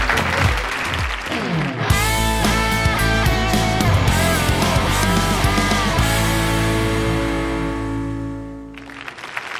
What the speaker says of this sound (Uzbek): Olqishlar marhamat.